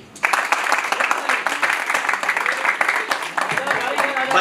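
An audience bursts into sustained applause at a live seminar, dense clapping that starts abruptly and continues loud and steady throughout.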